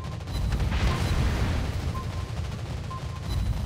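A torpedo strikes a ship in a naval combat game, a loud sustained explosion roar with heavy low rumble that swells early and holds for several seconds.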